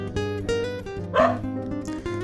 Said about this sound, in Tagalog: galit sa akin mga aso niya.